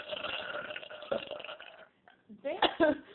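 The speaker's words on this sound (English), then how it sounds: "It's like 4 minutes of us burping." Burps during a burping contest, a long rumbling belch followed after a pause by shorter bursts, close and loud, with voices mixed in.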